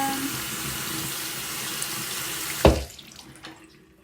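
Tap water runs steadily into a water flosser's reservoir for refilling, then cuts off abruptly with a splash near the end, leaving faint quiet handling sounds.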